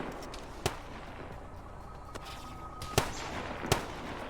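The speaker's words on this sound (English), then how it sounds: "Throwing a grenade in there." Grenade and combat blasts in the Arma 3 PvP video game, heard as a few sharp, cracking explosions spaced irregularly over a low background rumble.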